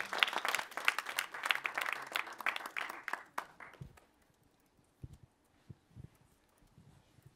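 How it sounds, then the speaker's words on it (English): An audience at a film industry pitch event applauds presenters, a lively patter of clapping for about four seconds that dies away into a few faint scattered claps and shuffles. "We can applaud them."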